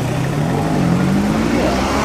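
A car with a Yamaha engine revs up on a short drive, a loud steady engine drone rising gradually in pitch, close and continuous, with no talk.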